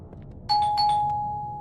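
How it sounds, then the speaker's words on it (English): After a brief quiet stretch, a doorbell in an indie horror video game sounds with a few rapid chimes followed by a lingering tone that slowly decays. "Someone's ringing the doorbell."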